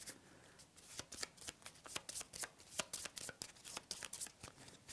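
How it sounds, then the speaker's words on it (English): A discard pile of playing cards being shuffled during a tabletop board game, a close, crisp run of rapid riffling snaps in quick repeated bursts lasting several seconds. "So I shuffle up my discard pile."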